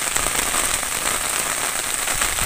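Rain patters steadily on a hard surface, a dense, even hiss of drops with no voices.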